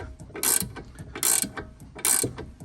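A ratchet cranks out a front control arm pinch bolt on an Audi B8, sounding as three loud, close bursts of rapid clicking spaced evenly about every three-quarters of a second.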